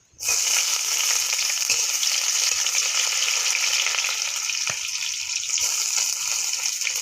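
Onion dropped into hot oil with a bay leaf, a loud, continuous hissing sizzle that erupts suddenly and holds steady at close range, with a few faint clicks underneath.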